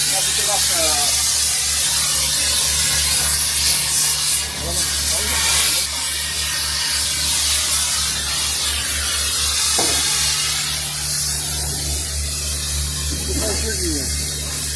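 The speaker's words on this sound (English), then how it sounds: "homeboy right here is gonna attempt to torch off all the bolts to the frame" A cutting torch hisses steadily while cutting the bolts off a big truck's frame, a continuous loud spray of gas that runs throughout, with people talking intermittently over it.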